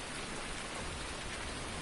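Steady, dense rain falls in the Farming Simulator 19 video game, a constant broadband patter with no pauses, fairly close and even throughout.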